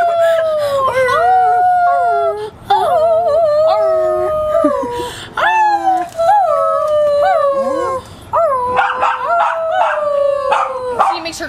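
A dog howls loudly and close by in long, wavering, repeated howls with brief pauses between them, joining people who are howling alongside it.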